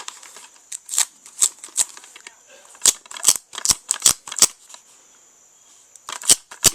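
Leftover glue dabbed off a plastic DVD case with a peeled sticker, a run of quick, close, sharp tacky ticks in short bursts with brief pauses between them.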